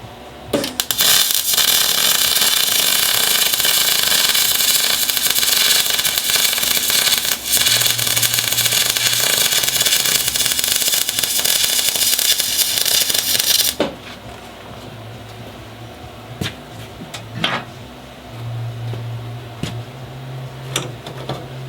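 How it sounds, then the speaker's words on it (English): A bracket is welded onto an engine, giving a loud, continuous crackling hiss for about fourteen seconds. It then stops, leaving quieter shop noise with a few clanks and a low hum. "So we're just welding on this bracket now, after test fitting it obviously."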